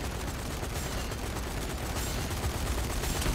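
Sustained automatic gunfire from minigun-style weapons in Zombie Army 4: Dead War, a dense, steady roar of rapid shots that holds at even loudness for the whole span with no talk over it.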